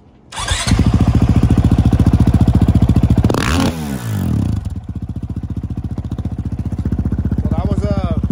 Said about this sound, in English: I'm going to give it a full throttle rev.